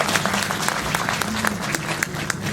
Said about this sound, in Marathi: आणि आता तुम्ही एकदा सगळ्या टाळ्या वाजवा, जोराने टाळ्या वाजवा, अजून जोराने वाजवा.